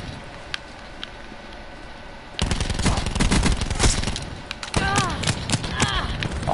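Rapid bursts of automatic gunfire from a PS4 shooter game, loud cracking volleys kicking in partway through and continuing in quick repeated shots, with gamers talking over the action.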